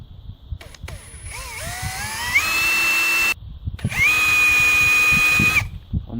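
A power drill bores a hole in steel during a casting machine repair, two sustained whining bursts with a rising motor pitch, separated by a short pause, close and loud over faint clatter.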